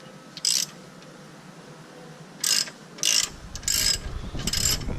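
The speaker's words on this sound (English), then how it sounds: "I'm going to take my 19mm and wrench it up, just so I can put tension off of this." A 19mm ratchet wrench clicks in several short bursts while working on the intermediate shaft of a Dodge Caliber SRT-4, close and fairly loud over faint background hum.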